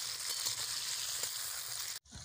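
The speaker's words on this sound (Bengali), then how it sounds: "আলুগুলোকে আমি একদম লাল করে ভেজে নেব" Potatoes frying in hot oil in a pan give a steady, dense sizzle and crackle that runs on without a break, close and fairly quiet, with a brief dip near the end.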